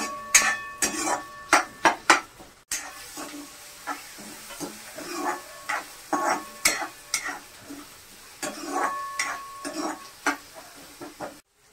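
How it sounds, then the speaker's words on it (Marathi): Onion pieces frying in a pan for a potato-onion curry, stirred with a utensil scraping the pan in repeated irregular bursts over a soft sizzle, close and fairly loud, with no talking. "पहिला कांदा तळू द्यायचा"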